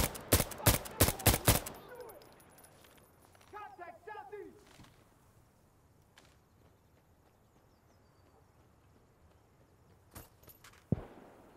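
A rapid burst of gunfire opens a match of Insurgency Sandstorm, with a few sharp cracks close by. Quieter rustles and a single late shot follow under faint background ambience.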